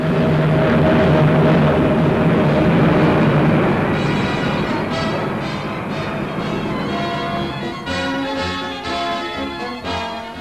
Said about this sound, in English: A small twin-float biplane, the Heinkel 114 has an unusually short lower wing braced by diagonal struts